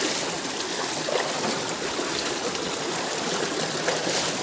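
A waterfall gives off a steady, broad rushing hiss of falling water, constant and fairly close with no other sounds standing out.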